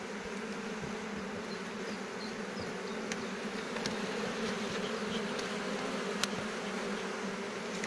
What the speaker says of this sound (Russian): Вот это пчелы летные, они уже вылетают.